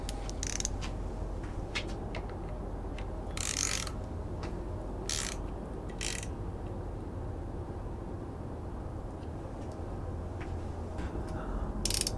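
Ratchet wrench snugging bolts on a 1991 Toyota MR2 5S-FE engine during long block assembly, several short clicking bursts scattered over a steady background hum, close by with no talk.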